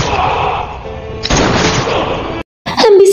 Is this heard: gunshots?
yes